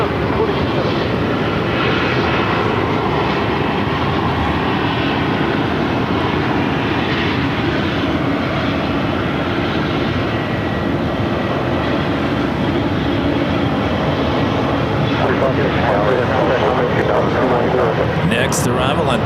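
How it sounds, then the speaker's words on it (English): A Southwest Airlines Boeing 737 MAX 8 jet arriving on runway 26 at Phoenix Sky Harbor makes a steady, loud, broad engine roar across the whole stretch. Voices talk faintly underneath it. "Southwest Airlines 1324 coming in from Spokane on a 737 MAX 8"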